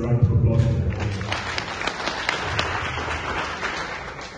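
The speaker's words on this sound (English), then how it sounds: "I think he deserves a round of applause for that." An audience at a regional review meeting in the Far North applauds, steady moderate clapping that fills the whole stretch after a brief voice at the start.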